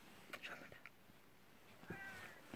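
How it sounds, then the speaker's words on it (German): A cat outside a door meows to be let in. Several short, soft meows come at intervals over quiet room noise, with faint speech in between. "Katze möchte gerne rein."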